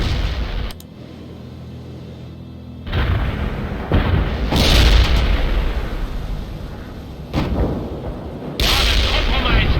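A heavy tank in World in Conflict fires on hostiles, with several deep booming cannon blasts spaced a few seconds apart over battlefield rumble and radio unit chatter.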